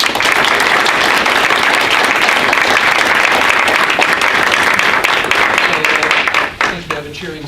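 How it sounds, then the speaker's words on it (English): Family members in the audience at a school district board meeting break into loud cheering and applause, a dense, continuous roar of clapping that holds for several seconds before dropping off abruptly, with a voice starting up at the end. "I think we have a cheering section here"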